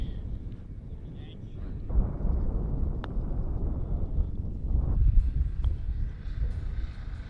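Gusting wind buffets the microphone on an open golf course at Erin Hills in Wisconsin, a steady low roar throughout with a few brief voices talking over it.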